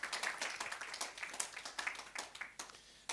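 Audience applauding a conference panelist at a roundtable discussion, scattered clapping from a modest crowd, somewhat distant and fairly quiet, fading toward the end.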